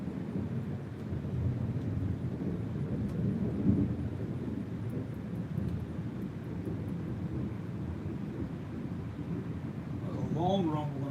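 A long, low rumble of thunder from a brewing storm rolls on steadily for several seconds, distant and continuous, with slight swells and a faint voice near the end.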